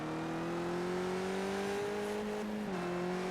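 A race car engine at Daytona drones faintly in the background, its steady tone rising slightly in pitch and then dipping as it carries on at a distance.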